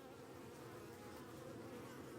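Bees swarming around a beekeeper while a new queen is installed, a dense, close, continuous buzzing drone with no talk, faint and even.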